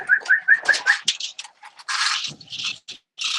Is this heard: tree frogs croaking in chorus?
no